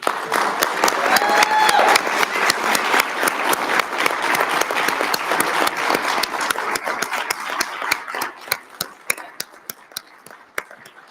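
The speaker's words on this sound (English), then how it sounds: "Please join me in a round of applause." A crowd applauds loudly at a school district board meeting, dense clapping that gradually thins out into scattered individual claps as it fades.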